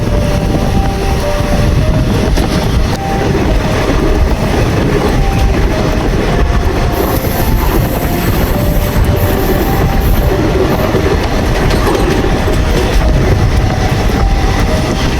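A passenger train travels on rails, heard as a loud, continuous rumble of wheels and carriage with steady rattling throughout and a brief high squeal partway through.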